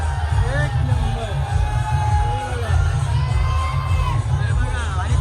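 A dense crowd cheers and whoops with shouting children during the Raibadevi yatra procession, a loud continuous roar of voices throughout.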